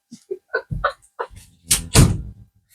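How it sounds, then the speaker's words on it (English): A door is pushed shut with a solid thunk and a brief rattle near the end, preceded by some light shuffling and handling noises in a quiet room. "I'm going to shut the door."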